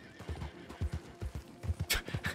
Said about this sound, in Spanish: Su caballo enfadadísimo.